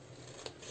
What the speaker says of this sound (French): On va venir couper tout simplement ici dans la diagonale, de façon à venir couper en biais